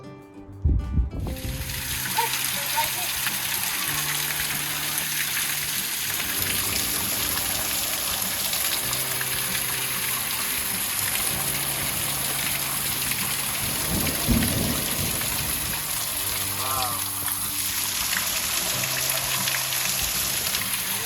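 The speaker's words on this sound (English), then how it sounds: "So much rain." Steady rain patters and trickles on surfaces for about twenty seconds at moderate loudness. No clear thunder can be heard, only a few brief louder splashes and knocks, and no one talks.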